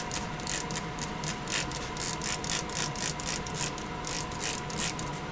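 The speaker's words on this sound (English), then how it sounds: "So I'm going to spray it with some water." A spray bottle spritzes water onto a leather hat patch again and again in a quick, steady rhythm, each hissing squirt close and distinct.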